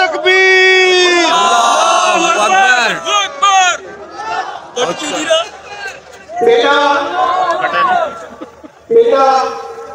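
A crowd shouts a religious slogan together in reply to a call at a public programme: loud massed voices that rise and fall in several bursts, with scattered chatter between the shouts.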